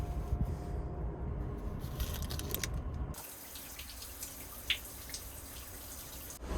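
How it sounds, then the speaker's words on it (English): Shower water running in a small Amtrak Auto Train cabin bathroom, a steady hiss and spatter that shifts in tone partway through as the flow changes, with a few faint drips and knocks. "Try the shower."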